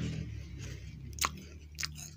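Crunchy Tango Choco Tiramisu wafer being chewed up close: a low, steady mouth rumble broken by two sharp, crisp crunches about half a second apart, quiet and with no speech.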